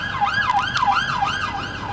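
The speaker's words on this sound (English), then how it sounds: "Excuse us for the ambulance," An ambulance siren wails close by with a steady up-and-down two-tone sweep repeating about every half second, loud and continuous over low road rumble, heard near an ambulance station.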